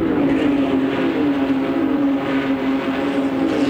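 Barber Dodge Pro Series race cars at the St. Petersburg street circuit accelerate flat out side by side toward a right-hand corner, a loud steady engine roar with a droning tone throughout, no speech.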